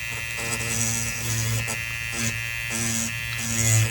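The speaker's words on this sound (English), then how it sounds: "letting the actual diamond burr do the work for me" Small handheld rotary tool spinning a fine diamond burr against a plastic model part, a steady high-pitched motor whine with a faint grinding edge that swells slightly as the burr bites in, close and continuous.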